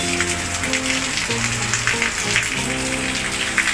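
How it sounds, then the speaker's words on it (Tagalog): Heavy rain pours steadily on surfaces at a farm resort, a dense continuous patter under a low tonal hum. "Oh, malakas ang ulan, ah."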